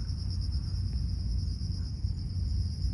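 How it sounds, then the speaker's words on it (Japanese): Bell crickets chirp steadily in a continuous high, pulsing trill over a low background rumble, with no talking. "スズムシが聞こえております。"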